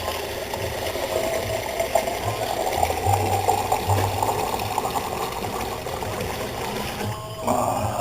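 Hot water streams steadily into a pot of chicken sausage gumbo for about eight seconds, a continuous close pouring wash that pauses briefly near the end before resuming.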